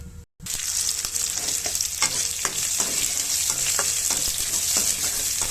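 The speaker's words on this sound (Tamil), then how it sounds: "தேங்காய் துருவல் இப்படி நல்லா ப்ரௌன் கலராக வறுக்கணுங்க" Grated coconut roasting brown in a pan, giving a steady close dry sizzle broken by repeated scraping stir strokes, with no talk.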